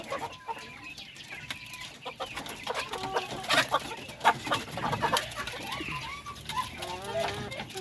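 Native chickens cluck repeatedly in short, irregular bursts at close range, several birds overlapping against a soft farmyard background, with no voices present.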